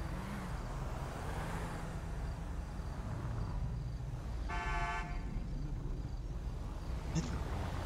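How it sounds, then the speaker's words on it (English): A van's horn honks from close behind on a road, a short blaring burst in the middle over steady engine and road rumble, with a brief faint toot near the end. "I'm scared, he's honking at us."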